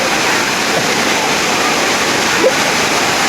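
Fast-moving flood water rushes steadily with a loud, dense roar during a thunderstorm, with one brief splash partway through.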